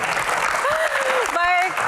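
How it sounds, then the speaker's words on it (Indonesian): Brief applause from an audience at a Q&A session, a short burst of clapping under a speaking voice. "Tepuk tangan."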